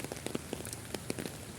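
Rain falling in Birmingham, UK, beside a river at night: a close, steady patter of drops with scattered sharper splashes, heard alone without any voices.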